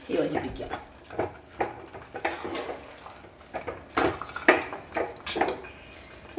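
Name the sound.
stirring jackfruit erissery with fried coconut in pot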